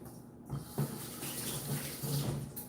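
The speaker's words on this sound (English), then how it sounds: "Quick rinse on my hands" A kitchen tap runs for a quick hand rinse, giving a quiet, steady stream of water with faint splashing throughout.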